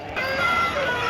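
Abras rooster at the Pileru hen market, a Sunday poultry market, crowing and clucking in a drawn-out call over a steady bed of busy market noise.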